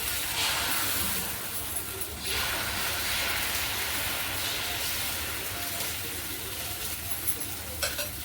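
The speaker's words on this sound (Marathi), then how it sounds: "आता परत हा दुसरा डोसा टाकून घेते बघा" Dosa batter for a cheese masala dosa spread on a hot pan gives a loud, steady sizzle with a broad hiss. Faint scraping runs through it, and the sound dips briefly near the middle.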